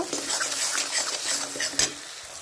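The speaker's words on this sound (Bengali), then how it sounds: "এবার এই মশলাটাকে ভালো করে একটু কষিয়ে নেব।" Ground spice masala of turmeric, cumin, coriander and chili powder frying in a pan for a chicken dish; continuous close sizzle under busy scraping and stirring with a utensil, one brief sharper clink.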